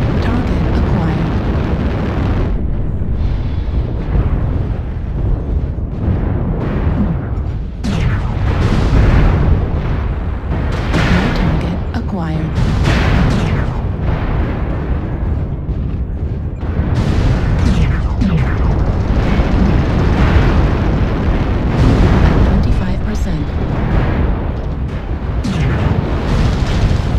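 Incoming missiles pound a mech in MechWarrior Online, with dense, loud rumbling explosions and bursts in rapid succession, under a steady roar of battle noise and a synthetic cockpit voice.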